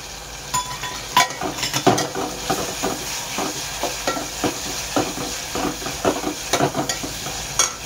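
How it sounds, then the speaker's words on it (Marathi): Tomatoes go into a sizzling rawas fish curry masala in a pan, with repeated sharp scrapes and clatters of a spoon against the pan over a steady frying hiss, close and fairly loud, with no talk. "आणि त्यानंतर टाकणार आहे आपण टमाटे."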